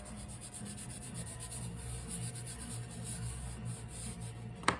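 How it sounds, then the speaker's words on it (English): Fingers rubbing rosy pastel into paper to blend it, a soft, steady scratchy friction in quick repeated strokes, close and fairly quiet, with no one speaking. "I can rub that right in with my fingers"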